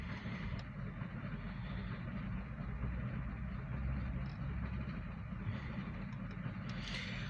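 A long grain hopper freight train on the OC&T line rolls steadily along the rails, a continuous low rumble with faint squeals, no voices over it.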